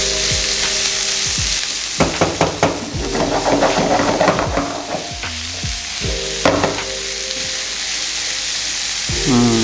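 Aromatics for a sea bass dish hit hot oil and fry loudly with a strong continuous sizzle, with a cluster of metallic spatula scrapes and pan knocks in the middle.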